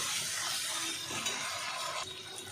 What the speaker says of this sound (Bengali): টমেটোর পেস্টটাও দিয়ে দিলাম। ভালো করে কষাটা থাকবো।